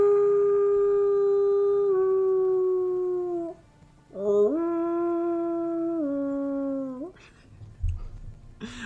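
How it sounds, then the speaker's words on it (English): Wolves howl in long, sustained, wavering tones, two overlapping howls gliding down then rising again with a short break between, followed by a faint scuffle at the end; clear and fairly close, no talk. "It was wolves howling at the moon."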